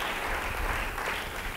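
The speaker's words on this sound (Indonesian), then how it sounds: "Beri tepuk tangan bagi Tuhan." Congregation clapping during a church sermon, a steady wash of applause that holds evenly for the whole stretch, fairly loud and close with no talk over it.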